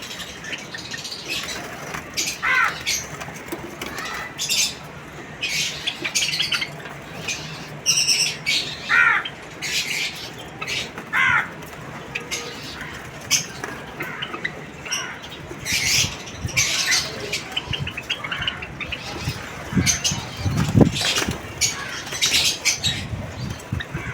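Java sparrows and other caged birds in a hobby aviary setup chirp and squawk continuously, with frequent wing flaps and busy overlapping calls close by, with no talking.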